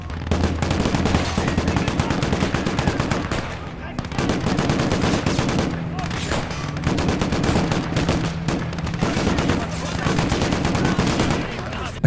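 Dense, continuous bursts of Maxim machine gun and rifle fire in the Gates of Hell: Ostfront war game, loud and close, rattling almost without pause and dipping only briefly a few times.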